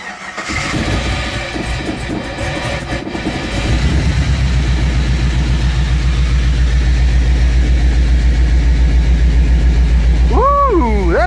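A 1979 GMC C15 truck engine with a newly welded exhaust cranks, then idles with a deep, rumbling exhaust note that stays loud and steady; a short voice cuts in near the end.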